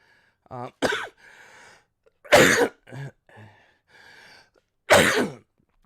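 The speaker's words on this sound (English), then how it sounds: "I'm gonna be coughing a little bit." Three separate sharp coughs ring out close by, spaced a second or two apart, each trailed by a brief throaty rasp in otherwise quiet surroundings.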